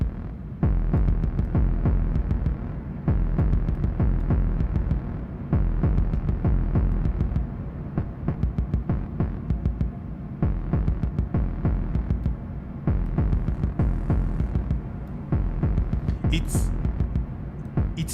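A modular synthesizer drum voice with its depth set to exponential throbs in a loud, booming, continuous pulse, a heavy low-end beat repeating rapidly throughout with buzzy hum and occasional brighter clicks.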